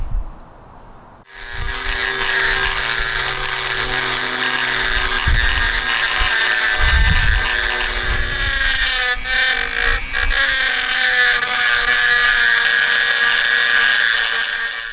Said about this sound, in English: I'm gonna come in now with the Dremel